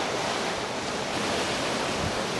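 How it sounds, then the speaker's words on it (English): Big ocean waves rush and crash against a Nautitech 40 catamaran in rough seas: a loud, continuous roar of surf and wind noise with no pauses. "because there's big waves, there's another big one."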